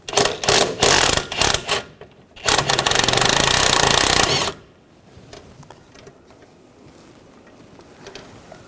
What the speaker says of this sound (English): I'm using a 15mm socket, take the nuts off.